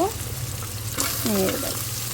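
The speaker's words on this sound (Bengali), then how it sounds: "এখানে হলো চিংড়ি মাছ ভাজা নিতেছি দিছি শুকনা মরিচ জিরা" Shrimp frying in a pan with dried chili, cumin and turmeric, a steady close sizzle with stirring scrapes and a brief clatter, no speech.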